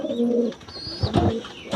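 Breeding pigeons coo nearby, a few soft, throaty calls in quick succession, close and clear with no talk.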